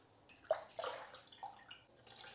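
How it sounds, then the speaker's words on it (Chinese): Pork liver being rinsed in a bowl of clear water, with soft sloshing and splashing in a few short bursts, faint and close, with no talking. "再准备一碗清水，把猪肝再次淘洗一下"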